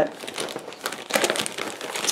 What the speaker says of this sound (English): So then I also put most of these things in like a plastic bag in here just in case anything did leak or spill out.